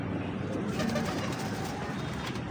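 Soft, low pigeon cooing repeating under a steady background hum, close by and fairly faint.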